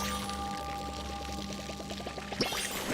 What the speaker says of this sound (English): Gonna water all my plants.